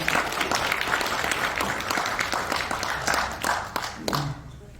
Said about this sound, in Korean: 다시 한번 큰 박수 쳐주시기 바랍니다.